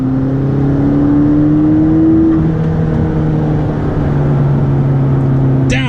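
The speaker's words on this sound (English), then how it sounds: "The revviness of that engine." McLaren 12C with a flat-plane crank engine holding high revs from inside the car, a smooth loud drone with steady pitch shifts as the gears change and a faint blip at the end.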